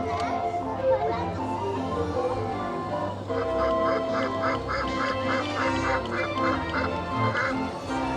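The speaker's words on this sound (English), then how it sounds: "Starts quacking" A coin-operated egg machine at the Efteling theme park's Oude Marskramer gift shop quacks like a duck, a rhythmic run of repeated mechanical quacks over tinkling music and crowd murmur.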